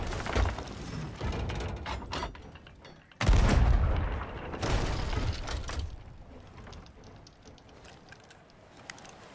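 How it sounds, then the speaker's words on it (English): A ship's cannon in the pirate game Sea of Thieves fires chain shot, a single heavy boom near the middle cutting sharply through a busy, noisy background of game effects. "Come on, game, give me a chain shot."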